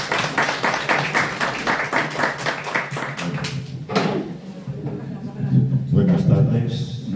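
Audience applause at a local history talk in Zamora province, Spain, with dense clapping through the first few seconds that fades into a speaker's voice and room noise.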